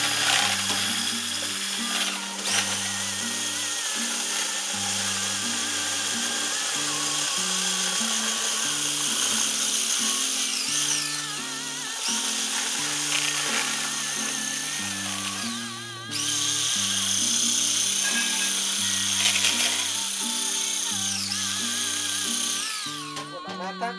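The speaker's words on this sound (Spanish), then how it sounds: "Voy a probar de batir la nata." Electric mixer whipping cream: loud motor whine with a grinding, pulsing rhythm as the beaters work, briefly dipping in pitch and load midway, then resuming steadily.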